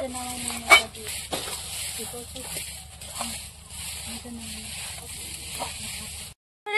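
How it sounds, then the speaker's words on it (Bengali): Puffed rice being stirred into molten jaggery in a pan, a soft continuous sizzle with scraping stirs and an occasional sharper knock, then a brief silence at the end. "এবার খই দিয়ে দেবো গুড়ের মধ্যে। বেশি নাড়া দাও।"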